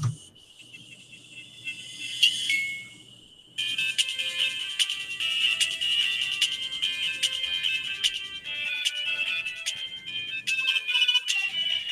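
A music WAV file played from a Circuit Playground microcontroller board through its tiny speaker, thin tinny tones with a steady high-pitched beat, faint and close, after a short electronic chirp.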